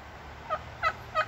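Three short, loud turkey gobbles from a backyard flock, spaced evenly with brief pauses between, clear and near against a quiet background.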